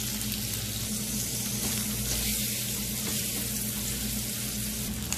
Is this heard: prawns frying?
yes